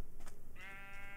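Sheep bleating in the Minecraft video game, a single short wavering bleat standing out clearly over quiet background.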